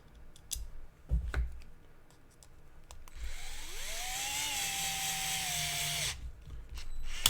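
A power drill driver with its torque clutch set low drives screws into an RC buggy kit, a steady whirring run of about three seconds between small clicks and handling noises.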